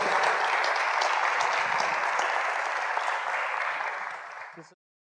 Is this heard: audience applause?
yes